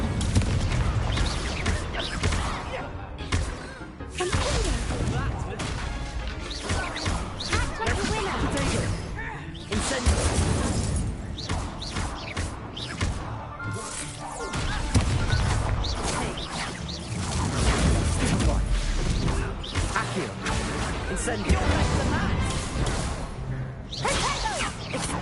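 Hogwarts Legacy spell effects such as Incendio, with continuous whooshes, fiery bursts and booming impacts layered densely over game music, while a voice repeatedly shouts spell names.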